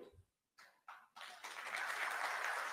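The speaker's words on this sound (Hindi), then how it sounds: "नहीं ताली मत बजाइए" An audience at a political speech breaks into applause, building from a few scattered claps after a brief pause into sustained, fairly faint clapping.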